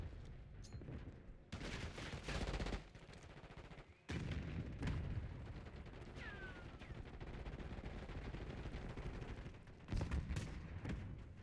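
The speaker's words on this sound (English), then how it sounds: "Oh, I got sniped." Gunfire in an online shooter game, with several sharp bursts of shots and a long crackling stretch of rapid fire, all at a faint overall level.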